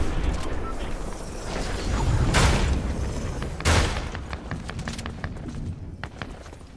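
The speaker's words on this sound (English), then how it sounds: "There's some gunfire over here." Gunfire in a video game during a live stream, with two loud booming bursts rising over a busy background of game noise, mechanical clatter and footstep-like thuds, with no speech.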